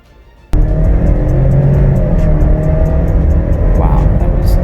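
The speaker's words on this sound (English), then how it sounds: "let's put it into sports mode and see how fast it goes from 0 to 60 miles per hour" A 2020 Ford Explorer with a 4-cylinder engine, floored in sport mode, accelerates hard from 0 to 60 mph. The engine starts abruptly into a loud, sustained drone that holds steady and close from start to finish.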